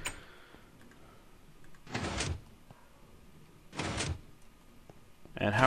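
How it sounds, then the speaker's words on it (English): A door in Minecraft opens and closes during a redstone challenge, giving two short, fairly loud clunking bursts about two seconds apart, with a third sound starting at the very end over a quiet background. "Stupid door."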